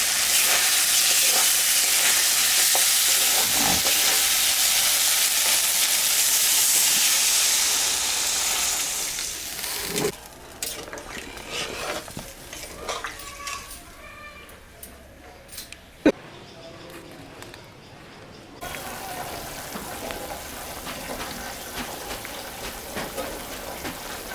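Spice paste fries loudly in a pan, then water is poured in and the harsh hiss drops to a quieter bubbling simmer with a few clatters.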